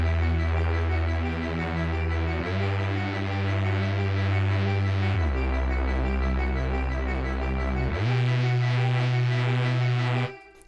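A synth arpeggio pattern built in the Vital synth for a drum and bass track, bright stepping notes cycling over a deep sustained bass that shifts pitch every few seconds, steady and loud before cutting off abruptly.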